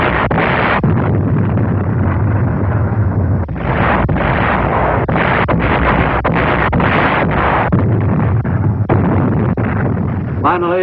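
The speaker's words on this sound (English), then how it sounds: "the Japanese bombarded the island fortress with every weapon at their command" Artillery and other heavy weapons bombard an island fortress in a World War II battle, with loud, dense explosions booming almost continuously and merging into a sustained roar broken by a few short gaps.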